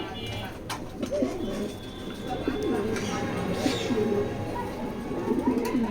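Racing pigeons coo softly and repeatedly at a market stall, their low burbling calls running steadily at close range under a seller's ongoing talk.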